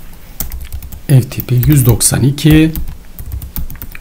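Typing on a computer keyboard while setting up an FTP server on Windows Server 2019, quick clicky keystrokes running throughout at close range, partly under someone talking.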